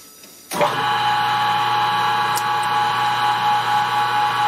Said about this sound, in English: And we'll start it up and grind this end flat again, take the chamfer off.